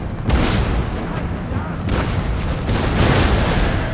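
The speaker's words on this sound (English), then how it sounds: "My cannons are hitting my own guys." Cannons fire in a battle in the strategy game Empire Total War, two heavy booms about a second and a half apart over continuous loud battlefield rumble and noise.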